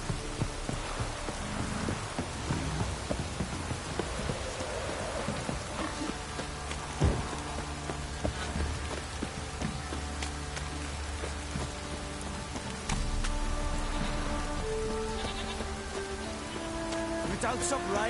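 Steady rain pours down, pattering densely on surfaces throughout, with faint voices and occasional thumps beneath the constant wash of water.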